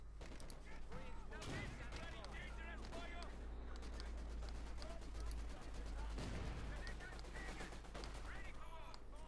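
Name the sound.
gunfire in Company of Heroes 2 video game battle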